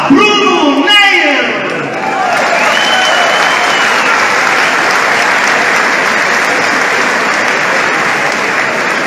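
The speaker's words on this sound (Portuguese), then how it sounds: "salve de palmas para Bruno Neier." A full auditorium audience breaks into loud sustained applause with some shouts and whoops, following a brief announcer's voice at the start; the clapping holds steady to the end.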